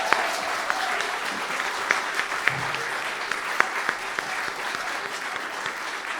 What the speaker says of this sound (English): So please can we have a round of applause for the teachers at Forte.